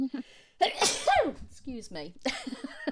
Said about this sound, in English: I think I might sneeze now as well